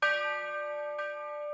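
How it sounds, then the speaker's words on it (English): Church bell from a free Spitfire Audio plugin rings with a bright, sustained metallic tone, struck once and then again about a second later, the long shimmering ring carrying on alone. "Like that is a church bell."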